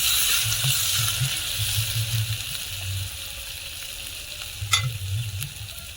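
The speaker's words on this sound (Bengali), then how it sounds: "আদা খোড়া দিয়ে আর একটু ভেজে নেবো" Chopped ginger frying in a pan while being stirred, a steady close sizzle with soft scraping bursts of the stirring utensil and a sharp clink near the end, no voices.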